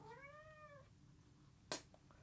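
A house cat gives a clear, drawn-out meow near the start, followed by a sharp click or knock; a low background hum continues throughout.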